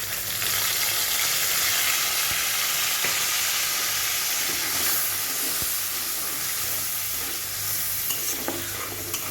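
Ground paste of ginger, green chili and fennel seed frying in a pan for a vegetarian pointed gourd dish, a loud, dense, continuous sizzle and hiss with occasional faint clicks of stirring, close and without talk.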